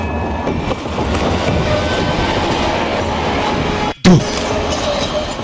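A train rumbles past in a movie scene, a loud continuous rolling clatter of wheels on rails that cuts out briefly near the end before a sharp burst resumes.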